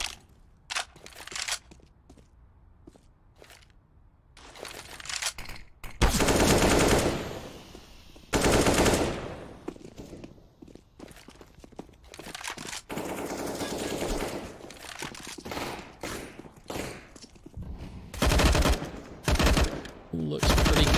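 AK-47 fire in a Counter-Strike match on the Overpass map: sharp, loud bursts of automatic gunfire and single shots mixed with in-game clatter, under a commentator talking.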